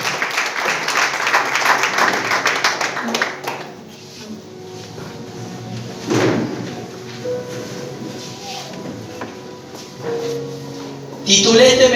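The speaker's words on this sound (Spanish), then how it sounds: "Den un aplauso a la palabra de Dios." A church congregation claps for a few seconds, the applause fading as the room settles, followed by shuffling, scattered movement noises and a voice speaking.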